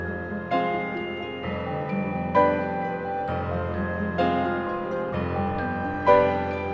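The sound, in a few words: harp, celesta and piano playing together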